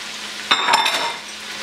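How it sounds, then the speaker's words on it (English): Pancit bihon rice noodles with snow peas get a quick stir in a hot pan. There is a sudden loud sizzle and scrape that fades within about a second, close up and with no talk. "So what I usually do is just to give it a quick stir."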